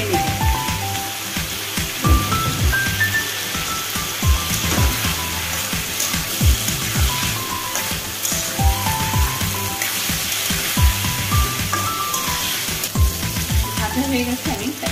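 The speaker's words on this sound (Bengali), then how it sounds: "তেলের মধ্যে একটু লবণ আর হলুদ দিয়ে আলুগুলো আগে একটু ভেজে নিচ্ছি" Round potato slices fry in oil seasoned with salt and turmeric, a dense continuous sizzle close by with occasional stirring scrapes and faint background music throughout.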